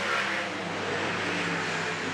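Sprint car engine roaring at full power on the Baypark Speedway oval, a loud, dense, continuous racing drone held close throughout with no pause.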